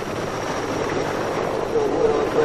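Military transport helicopters fly overhead carrying tanks of liquid for dust suppression near Chernobyl, a steady rotor and engine drone at moderate distance, continuous throughout.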